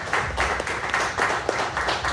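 Audience clapping in steady applause at an indoor demo night event, a moderate crowd heard at a middle distance for a couple of seconds.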